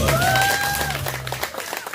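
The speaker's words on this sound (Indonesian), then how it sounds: "Oke, tepuk tangan dong." Audience clapping at a casual outdoor riverside chat breaks out under a fading voice, a brief, moderately loud patter of hands that builds as the talk gives way.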